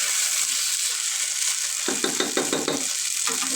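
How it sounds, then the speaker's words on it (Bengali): Rice for jeera rice frying in a pan, giving a steady close sizzle with bursts of scraping as it is stirred, and no talking. "যত ভাজবে তত ভজা হবে পোলাওটা।"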